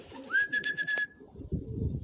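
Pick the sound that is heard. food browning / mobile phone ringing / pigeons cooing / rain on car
pigeons cooing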